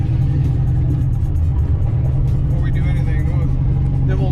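A Foxbody Mustang's engine rumbles loud and steady, building into revs as the car drives off, with a constant low drone throughout.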